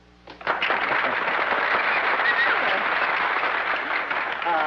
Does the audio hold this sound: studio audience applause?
yes